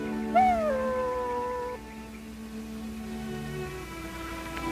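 A dog named Homer lets out a loud rising-and-falling howl that slides down and fades into a thinner, wavering tail, with no talking over it.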